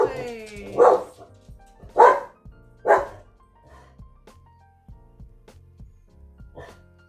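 A dog barks loudly and close by, with three sharp barks about a second apart followed by a pause and then one more bark, over a low background hum.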